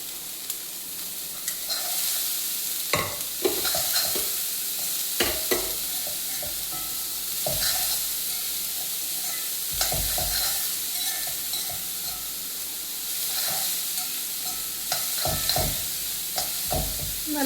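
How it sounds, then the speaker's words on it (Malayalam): Chopped banana flower stir-fried with popped mustard seeds for a Kerala thoran, with a steady sizzle in the pan and repeated spoon scrapes and stirring taps close by, no speech. "കടുക് വറുത്ത് അതിലേക്ക് നമ്മുടെ വാഴക്കൂമ്പ് അരിഞ്ഞത് ചേർക്കുക"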